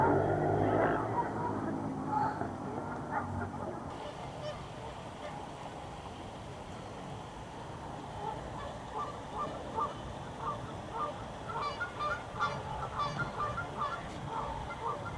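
Many swans honk and call continuously, a dense flock nearby, with a voice talking faintly underneath.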